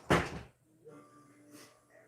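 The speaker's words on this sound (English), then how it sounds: "I'm going to go close my son's door to try to limit the noise." A child's bedroom door is pushed shut in a house with a single muffled thump, followed by faint creaks and soft background movement, quiet and close.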